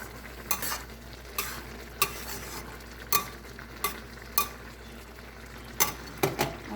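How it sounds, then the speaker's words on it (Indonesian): Porridge being stirred in a pot: a spoon scrapes and knocks against the pot in irregular strokes, about eight distinct clinks over a low bubbling background, close and clear with no voices. "Lalu kita aduk kembali supaya rata."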